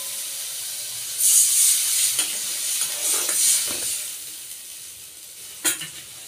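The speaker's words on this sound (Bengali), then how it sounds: "জল দিয়ে দেবো।" Water is added to an egg yolk curry cooking in a pan, bringing a loud, steady hiss and sizzle that swells up and then slowly fades, with a brief sharper burst near the end.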